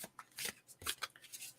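A deck of playing cards being shuffled nearby in quick bursts, with crisp riffling rattles and short pauses between passes.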